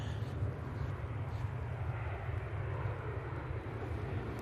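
A Ryanair Boeing 737-800 starts its takeoff roll at Manchester Airport, engines giving a faint, steady, low rumble from a distance for a few seconds.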